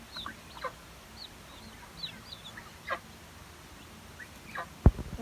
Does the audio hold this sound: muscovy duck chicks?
yes